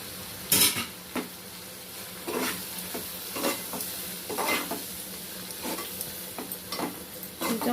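Raw prawn curry with turmeric and chilli sizzles in oil as a spoon stirs and scrapes the pan, with repeated clinks and scrapes over a steady frying hiss.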